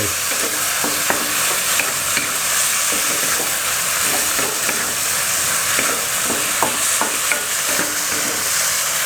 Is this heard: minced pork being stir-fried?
yes